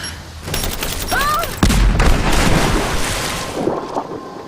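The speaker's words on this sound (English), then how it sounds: "Grenade out!" In Rise of the Tomb Raider, a heavy grenade blast booms low and loud amid scattered gunfire, the rumble lingering for a few seconds while voices are heard over the combat.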